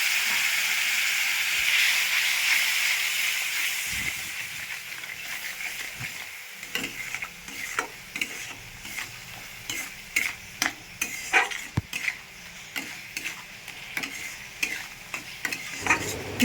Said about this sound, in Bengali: একটু জল দিয়ে মশলাটা ভালো করে একটু কষিয়ে নেব।